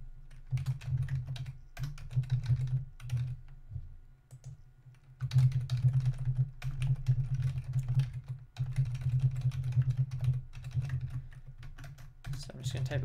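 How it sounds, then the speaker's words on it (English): Rapid clicking keystrokes on a computer keyboard while a short message is typed into a Drupal web article editor, close and steady in bursts with brief pauses, over a constant low electrical hum and no speech. "So I'm just going to type a quick message"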